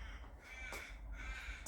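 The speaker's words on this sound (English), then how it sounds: "The birds are out in force today, so apologies, but you're going to hear lots of squawking from them." Crows caw outdoors in two harsh squawking bursts over a steady low background hum, fairly distant and quiet, with no talk.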